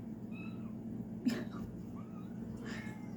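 A cat meows faintly a few times over a low background hum, with a short scuffing noise in between.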